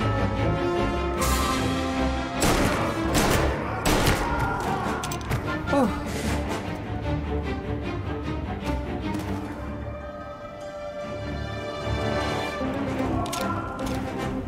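Gunfire in Mafia: Definitive Edition cracks in sharp, scattered shots over a busy game background, some loud and close, others more distant, with someone talking through the exchange.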